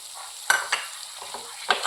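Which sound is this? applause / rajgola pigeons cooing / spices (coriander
spices (coriander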